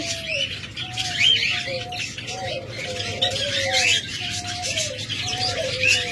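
A pair of lutino budgerigars chirp and warble continuously nearby, with repeated short whistled calls and squawks over a steady low hum.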